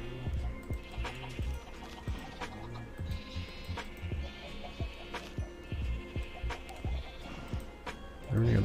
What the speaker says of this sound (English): we have a couple different colors of sheep too